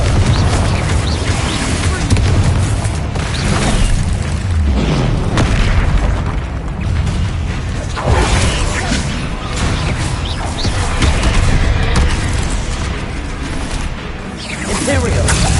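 Confringo fire-spell blasts in Hogwarts Legacy combat, a dense string of loud booming explosions and crashes one after another with hardly a pause, over a busy battle soundscape with voices calling out.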